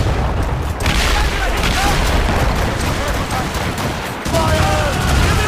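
Naval cannon and gun volleys from a sailing warship battle in Assassin's Creed Rogue, a dense roaring barrage of booms and crackling shots that runs for several seconds, loud and continuous, with shouting voices mixed in.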